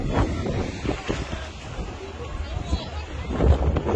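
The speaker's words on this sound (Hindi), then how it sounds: "बहुत तेज हवाएं चलती हैं" Strong wind buffets the microphone outdoors at Alexandria, Egypt, producing rumbling gusts that rise and fall, with someone talking over it.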